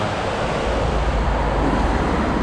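Ocean waves at Areia Branca beach in Portugal, a steady broad roar of surf with wind, loud and continuous with no talk.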